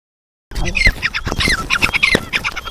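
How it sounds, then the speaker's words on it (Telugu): A bird call recording plays from a phone to lure birds during a hunt, a rapid string of squawking, quacking calls starting abruptly after a short silence and continuing loud and close. "చూడండి ఈ విధంగా అయితే పిట్టలకైతే రావడానికి సౌండ్ పెట్టుకున్నాము."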